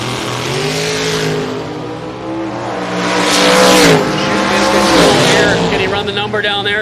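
Drag racing cars, a Chevrolet Lumina and a Chevy Nova, roar loudly with rising engine revs and a swelling pass midway, while an announcer talks over the noise.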